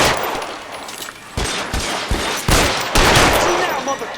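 Gunfire in the detective game L.A. Noire, loud irregular shots and bursts cracking over a noisy battle din, growing denser and louder toward the end.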